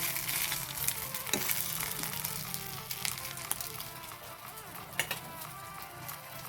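Food fries in a pan with a steady close sizzle, broken by occasional stirring scrapes and light clinks of utensils, and nobody talks over it.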